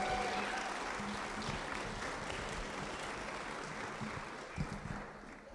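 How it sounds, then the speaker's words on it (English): Applause for volunteers at a community food-bank fundraiser, a dense, sustained round of clapping from a sizable crowd that stays level, then thins slightly near the end, with a couple of brief louder knocks. "please join me in giving our volunteers a huge round of applause for keeping this place running."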